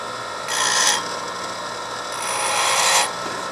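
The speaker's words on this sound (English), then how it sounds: "I'm going to use the Dewall pedestal grinder." A DeWalt pedestal grinder shapes a lathe tool bit in two bright, hissing passes of steel against the wheel, separated by the steady hum of the running motor.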